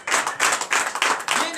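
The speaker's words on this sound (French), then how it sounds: "Donnez de vive acclamation à notre Seigneur Jésus." A church congregation at a Sunday service in Comè, Benin, claps in acclaim in loose bursts, loud and close, with voices mixed into the clapping.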